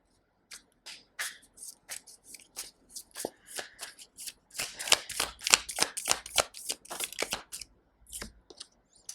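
Tarot cards being shuffled during a reading: a long run of crisp riffling and flicking bursts that grow denser and louder midway, close to the mic, with no voices.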